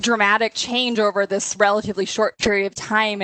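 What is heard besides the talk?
No everyday noise stands out behind the speech.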